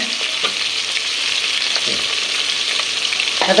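Onion and green chilies fry in hot oil with a loud, dense sizzle, broken by a few soft stirring knocks, close up and without speech.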